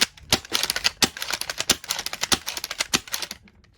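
A short lever-action Nerf foam dart blaster is fired repeatedly, a rapid series of sharp close clacks and pops from cycling and shooting that stops abruptly at the end.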